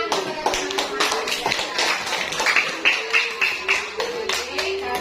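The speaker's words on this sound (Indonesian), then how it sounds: "beri tepuk tangan kepada teman-teman" Students in an Indonesian classroom clap for classmates after a group presentation, a steady patter of claps filling the room with voices talking over parts of it.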